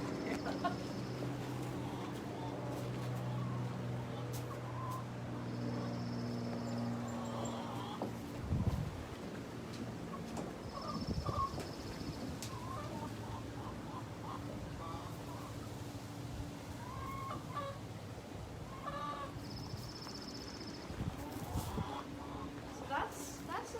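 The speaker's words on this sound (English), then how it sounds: "We have some chickens in the corner" Hens cluck and murmur in short bursts at a moderate distance, with steady background noise and occasional sharper calls throughout.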